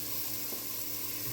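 Seafood gumbo base sizzling in a pot after beef stock is added, a soft steady frying hiss throughout with faint stirring, no voices.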